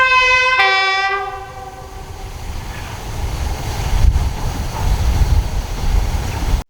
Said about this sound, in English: It's being headed by diesel-electric locomotive D5631, which is a Class 31 or Brush Type 2.